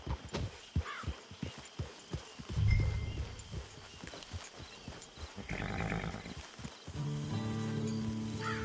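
Horse hooves in the Western video game Red Dead Online, a steady clip-clop of walking steps close by, with a snort and other ambient game noise layered in toward the end.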